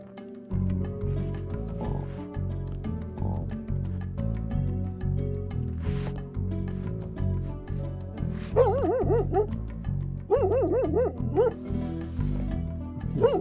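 A dog barks repeatedly in short yaps, close by at a campsite in Bir Billing, Himachal Pradesh, with whiny whimpers and yips mixed in between.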